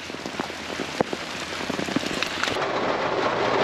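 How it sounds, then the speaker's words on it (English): Steady rain falls on outdoor surfaces, a dense, continuous patter with scattered louder drops, moderately loud and close, with no voices. "I wash off in the rain."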